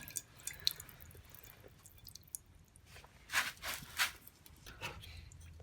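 Water dripping from the unscrewed filter of an Indesit washing machine into a bowl, heard as a few faint, close, wet drips and splats spread across a quiet stretch.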